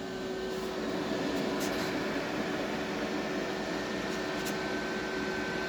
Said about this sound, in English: There's really a great fan in here. It's pretty loud.